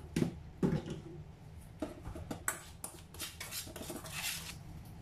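Spices, salt and garam masala are stirred in a bowl for a wheat-dough prawn chatti pathiri, giving scattered clinks and scrapes of utensil against dish, close and fairly quiet, with no talking.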